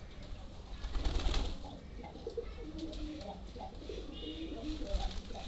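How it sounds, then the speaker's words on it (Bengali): Pigeons at a home loft coo softly at dusk, low rolling calls repeating through the clip, fairly quiet and close, with a person talking faintly nearby. "এই যে কবুতরগুলো, এই ডাক দেখেন কত সুন্দর।"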